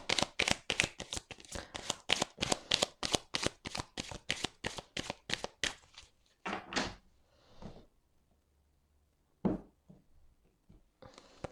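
Tarot cards are shuffled in a fast, even run of crisp riffles for several seconds, then a few slower handling sounds and one sharp card snap near the end, close by with no talk.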